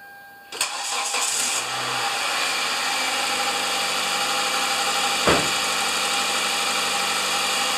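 A car that had sat in a garage for three months cranks briefly and fires up, settling into a steady, close idle with no talk over it.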